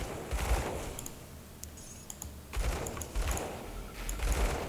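Rapid bursts of gunfire and heavy artillery blasts from the action RPG Grim Dawn: Ashes of Malmouth, with loud impacts clustered in two waves and a quieter lull in between.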